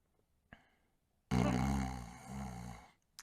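Children imitating snoring during a Nicholas and Krampus event: a brief quiet snort, then one long, loud, rasping voiced snore that rises and sags before fading, with a tiny click at the end.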